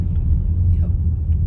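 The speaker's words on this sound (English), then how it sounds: "going through traffic at the moment" A car rolls through traffic, heard from inside as a low, steady road rumble with faint muffled sounds over it.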